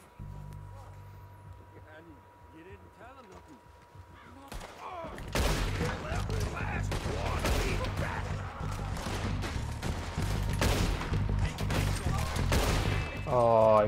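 Repeated gunfire from Red Dead Redemption 2, beginning a few seconds in and continuing as dense volleys and sharp shots over a steady hum, with a voice talking beneath it.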